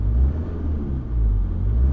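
A car engine revs up from idle, a steady low rumble with slight swells in pitch and loudness, heard close and alone for a couple of seconds.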